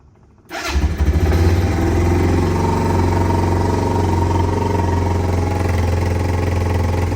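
A 1987 Kawasaki Bayou 185 ATV, choked, fires up right away and settles into a loud, steady, close idle with a fast rhythmic putter, alone and running continuously after a quiet start.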